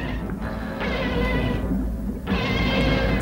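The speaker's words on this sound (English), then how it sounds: "He sounds like a cat." A drawn-out, cat-like meowing cry sounds twice, the second longer and louder, over a low background hum.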